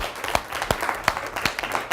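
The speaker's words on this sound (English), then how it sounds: "how about a round of applause for Olivia Henderson?" Brief applause from a small group at a school mock trial, distinct individual claps in a quick, uneven rhythm lasting about two seconds.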